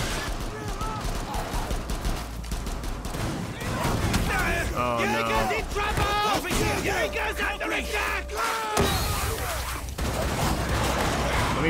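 Gunfire rings out in Rainbow Six Siege Outbreak, a fusillade of shots mixed with shouting and game effects, with voices talking over the action throughout.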